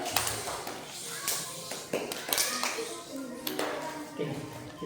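Children in a mosque perform a rhythmic clapping routine, groups of hand claps and taps in short patterned bursts, with children's voices chanting along amid shuffling and light thumps.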